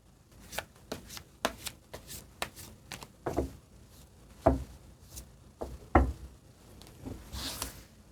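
Tarot cards are shuffled and drawn by hand, making a quick series of soft riffling snaps and taps. A few louder slaps follow, ending in a brief swish.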